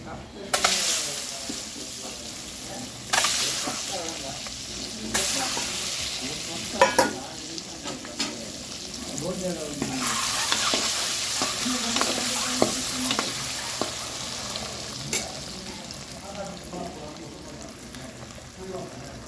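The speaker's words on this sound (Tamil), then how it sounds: "முட்டையில் ஃப்ரை பண்ணிவிடுங்க." Eggs with turmeric, salt and chili powder frying in oil for egg chilli, bursts of loud sizzling broken by stirring and scraping, rising and falling in waves.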